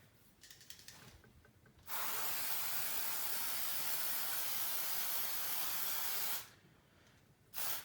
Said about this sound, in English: then I give it another final spray